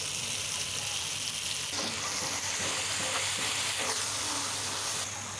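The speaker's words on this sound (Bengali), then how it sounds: "পোস্তটা ভেজে নিয়েছি" Poppy seed paste fries in a pan with tomato, green chili and turmeric, giving a soft, continuous sizzle with faint stirring scrapes throughout.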